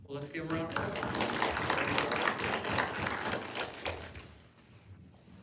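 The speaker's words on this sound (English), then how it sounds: "let's give them a round of applause." Steady applause from attendees at a regular school district board meeting rises quickly, holds for several seconds, then tapers off, heard fairly faint and distant after a brief voice at the start.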